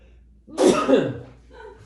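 A single short sneeze bursts out close by, sharp and breathy, then fades into quiet.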